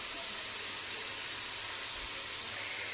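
Steam hisses steadily from a pot of freshly boiled pasta on a home stove, a soft, continuous broadband rush that stays faint and even throughout with no voices over it.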